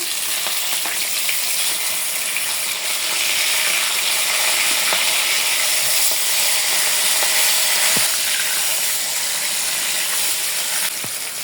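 Steady, loud sizzling of rohu fish frying in hot oil, a continuous crackling hiss with no talking.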